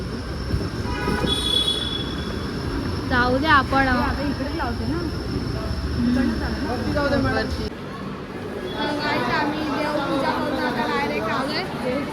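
A metro train runs with a steady rumble, and wheel squeal rises and falls on top of it. People talk and chatter throughout, close to the microphone.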